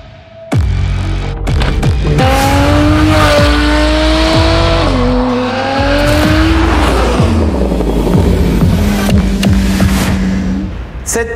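A Porsche 991.1 Carrera 4S with a 3.8-litre naturally aspirated engine, PDK gearbox, valved sport exhaust and sport-cat headers revs loudly and close, rising through gear changes with throbbing exhaust notes and then settling back.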